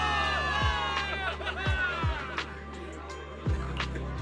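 A large crowd of soldiers cheers and roars in a Zenless Zone Zero cinematic, a dense continuous wall of shouting and whooping with a few low thuds underneath.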